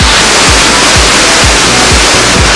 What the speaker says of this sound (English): Cool waterfall, right?